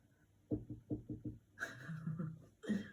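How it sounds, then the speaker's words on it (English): Knocking on a door or hard surface: a quick run of five close raps, then a pause and a few more knocks, fairly faint amid room sounds. "Did you hear the knocking? I heard the knocking. There's somebody knocking."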